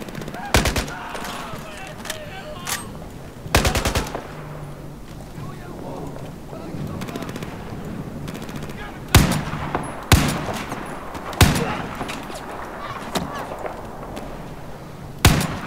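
Video game gunfire in Battlefield 4, with sharp loud bursts and single shots spread through the stretch, heavier volleys near the end, mixed with game ambience and some talking.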